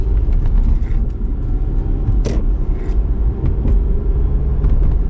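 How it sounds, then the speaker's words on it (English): A 2.5 liter V6 in a Lexus IS250 pulls under acceleration, a low, fairly quiet engine rumble heard from inside the car with road noise and a few faint clicks. "The motor's fairly quiet, and I was punching it a little bit."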